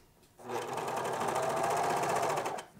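A sewing machine stitching a bomber jacket near a pocket, running in one steady, close, whirring burst for about two seconds before stopping, with no talking over it.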